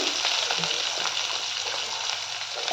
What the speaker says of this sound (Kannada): ಕ್ಯಾರೆಟು ಇದನ್ನು ಹಾಕಿ ಫ್ರೈ ಮಾಡ್ಕೊಳ್ತೀನಿ